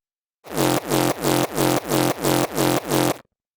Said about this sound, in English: I created the distorted tail which sounds like this.